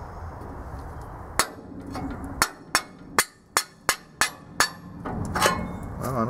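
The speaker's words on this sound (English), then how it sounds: "see if we can hammer it out." About nine sharp metallic hammer strikes driving a pin out of a dump trailer's hydraulic cylinder, close and loud, irregularly spaced, then falling into a steady rhythm, with faint background noise between blows.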